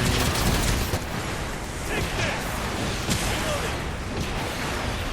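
Rapid gunfire from mech weapons in the video game Gundam Evolution, a dense continuous barrage of shots and impacts filling the scene, with game effects layered underneath.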